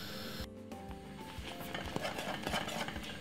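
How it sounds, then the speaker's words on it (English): A spoon scrapes and clinks around a pot of thick Jamaican porridge being stirred, a soft, fairly quiet rubbing with light metallic taps and no voices. "keep stirring it until it gets thick"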